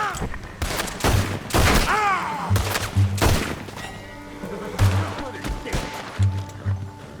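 Gunfire in the Western video game Red Dead Redemption 2, several loud shots in irregular bursts with heavy impacts and echoing tails, and a voice calls out briefly between the bursts.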